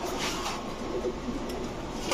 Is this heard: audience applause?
no